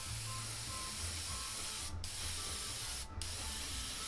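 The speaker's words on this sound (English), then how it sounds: "Now the main thing is I don't want to just have my airbrush pointing straight at it." An airbrush spraying paint onto a fishing lure, a continuous close hiss with two brief interruptions where the spray cuts off, alone without talk.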